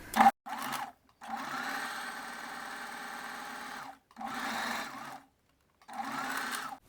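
A sewing machine stitches a fabric seam on underwear in three separate steady runs with short pauses between them, fairly close and with no talk.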